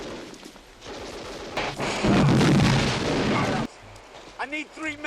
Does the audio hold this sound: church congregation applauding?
no